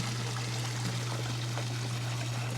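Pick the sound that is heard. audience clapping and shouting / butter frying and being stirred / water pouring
water pouring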